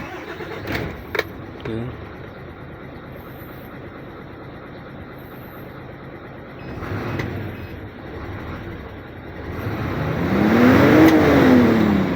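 A car engine cranks and catches, idles unevenly, then revs up strongly toward the end while people talk nearby.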